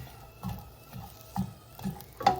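Cottage pie filling cooks in a pan with a soft, low simmering sizzle, broken by a few light stirring scrapes and a sharper clink near the end, close and fairly quiet.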